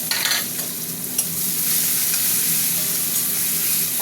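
Onion dropped into hot oil in a pan for a simple home-cooked dish, with a burst of sizzling that settles into a steady, close frying hiss.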